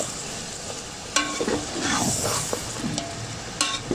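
Potato and eggplant curry with spices stirred in a hot pan, giving a soft sizzle broken by several sharp scraping and clattering spoon strokes spaced unevenly.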